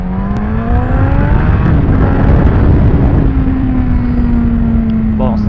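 Suzuki GSX-S 1000F motorcycle engine accelerating, a steady loud droning whine that climbs in pitch, heard up close and continuously with wind rush throughout.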